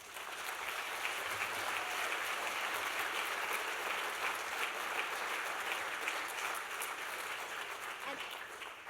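An audience at the 2014 David Carliner Public Interest Award presentation applauds an award recipient, a steady wash of clapping from many hands that eases slightly toward the end.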